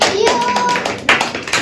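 A group of children claps hands in a classroom, several sharp claps landing in the short burst.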